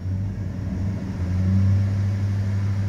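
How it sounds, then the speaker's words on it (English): A 2010 Chevrolet Express 2500 three-quarter-ton cargo van engine rises from idle to a steady low rev when given a little fuel, a close, loud droning hum with no talk over it. "if I give it just a little bit of fuel"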